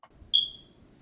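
A smoke alarm gives a single short, high electronic chirp of the kind that signals a low battery, loud and clear against a quiet room, with a faint tail trailing off afterward.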